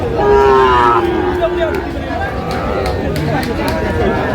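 Sahiwal cattle moo loudly and close at a busy livestock market, with several long, drawn-out calls overlapping amid the chatter and hubbub of a crowd.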